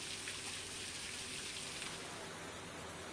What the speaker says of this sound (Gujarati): ધીમી ધારે વરસાદની સાંજ પછીથી શરૂઆત થઈ ગઈ